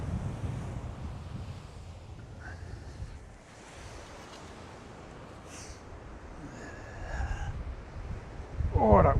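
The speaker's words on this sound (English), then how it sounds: "Oh, that wind. Literally blowing my head off." Strong wind buffets the microphone on a stormy seashore where waves break during sea fishing at Trimingham, a loud, constant rough roar that swells toward the end, with no clear talk.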